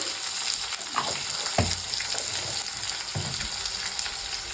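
Hill gooseberries roasting over a medium flame in a pan with turmeric powder and salt, giving a steady sizzle and a few distinct scraping stirs.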